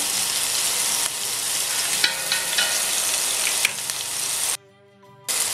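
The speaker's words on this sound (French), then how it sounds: "Et grille un peu les oignons" Onions fry in a pan with a steady close sizzle, punctuated by a few light stirring clicks, before the sound briefly drops out near the end and resumes.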